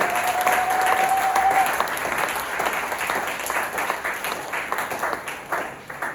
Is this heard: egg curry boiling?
no